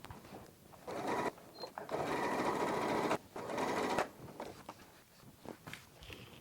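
Sewing machine top stitching a zipper pouch, running in three close bursts of rapid whirring separated by brief pauses, with light handling noise after.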